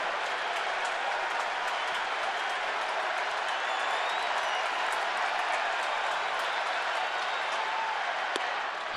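Steady crowd noise with scattered clapping fills a baseball stadium during a Giants vs. Dodgers game, a broad even roar that holds at one level throughout with no clear peaks.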